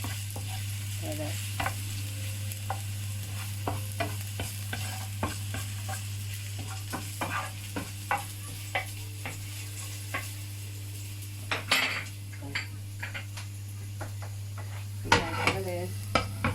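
Garlic and ginger fry in a pan with a steady quiet sizzle while a utensil stirs and scrapes in frequent light taps and clicks, close and unaccompanied by talk.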